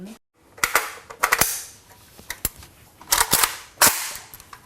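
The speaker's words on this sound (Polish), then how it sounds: "5 strzałów próbnych" Sharp gunshots crack out at a shooting range in irregular bursts, some single and some in quick clusters, loud and close with short pauses between.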